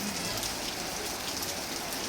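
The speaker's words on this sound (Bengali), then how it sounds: "বৃষ্টি হচ্ছে।" Heavy rain pours outdoors near the Pashupatinath temple in Kathmandu, Nepal, a loud continuous hiss of drops pattering on surfaces with no break and no talk.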